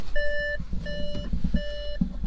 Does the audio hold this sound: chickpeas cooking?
no